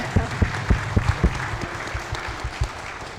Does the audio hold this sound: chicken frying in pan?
no